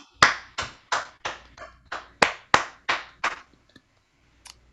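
A dozen or so sharp, evenly spaced claps ring out loud and close for a few seconds in a round of applause for student ambassadors, then trail off into a couple of faint taps and silence.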